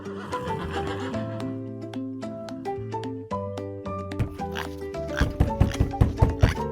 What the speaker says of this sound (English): I see a brown horse.